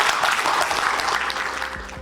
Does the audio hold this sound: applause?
yes